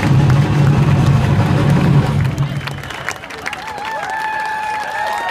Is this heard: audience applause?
yes